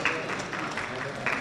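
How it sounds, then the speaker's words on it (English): Audience applause at a hospitality and events conference session, a brief, dense wash of clapping at moderate loudness. "Ladies and gentlemen, let's have a big round of applause,"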